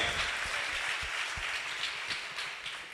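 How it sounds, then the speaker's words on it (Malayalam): Continuous audience applause in a hall at a church convention, a dense even wash of many hands clapping with no voices rising above it. "എല്ലാവർക്കും വേണ്ടി ഒരു കൈയടിക്കാം"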